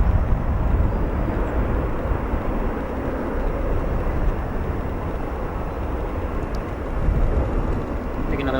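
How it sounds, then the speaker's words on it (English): An Etihad Airbus A350 airliner taxis at Chicago O'Hare International Airport, a steady, broadband jet rumble that holds level throughout and swells slightly near the end, with no voices. "Take another look at the Etihad A350 there, taxiing to Terminal 5"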